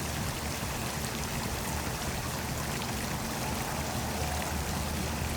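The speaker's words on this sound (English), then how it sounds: "your pump is ready to go, providing a beautiful aeration for your pond" Floating pond fountain pump rated 600 GPH spraying water outdoors, a steady, dense splashing rush like a stream or heavy pour, constant and close with no talk.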